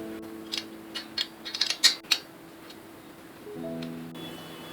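A screw is tightened on an aari embroidery stand with a quick run of close metallic ratcheting clicks, then a steady mechanical hum.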